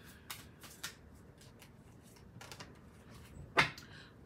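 Several light card-handling taps and a sharper slap near the end as an oracle card is pulled from a deck during a tarot-style reading; quiet, close, sparse sounds with no talking.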